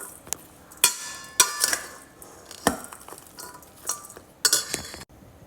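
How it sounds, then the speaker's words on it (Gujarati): A spoon mixes crushed mustard seeds in a bowl for turmeric and carrot pickle, sharp clinks and scraping strokes coming in irregular bursts, close and fairly loud. "પછી તમે એને થોડું મિક્સ કરી લો."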